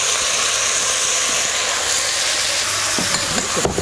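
Onions sizzle and fry in a hot pan for paella, a steady loud hiss throughout with a few faint utensil knocks near the end.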